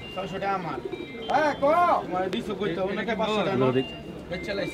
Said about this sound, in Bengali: এই যে দেখতেই পাচ্ছেন পুরা খাঁচা ভর্তি কবুতর